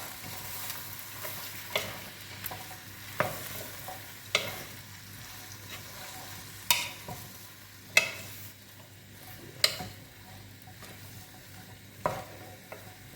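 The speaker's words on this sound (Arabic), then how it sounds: "هكذا خلطي كلش مع بعضه." Tripe with onion and tomato in a pan: a spoon scrapes and knocks against the pan in regular strokes about every second or so, over a soft steady sizzle of frying, with no voices.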